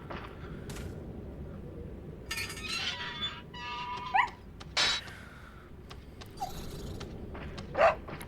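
In the Resident Evil 4 video game, a dog gives faint whimpers and yips in a quiet scene, spread out in brief bursts with soft clinks and a glassy rattle among them.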